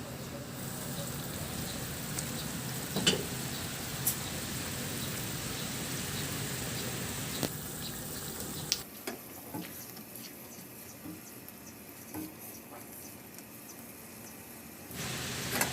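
Water poured into a hot frying pan with eggplant, seasoned with salt and pepper, sets off a steady broad hiss that drops to a quieter, softer sizzle partway through, with no talking.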